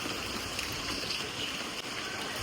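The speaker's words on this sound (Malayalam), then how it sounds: "കണ്ടില്ലേ, ഇങ്ങനെ ചാറുന്നുണ്ട്." Light drizzle falling outdoors at a home, a steady soft hiss of fine rain with no distinct drops, even and continuous throughout.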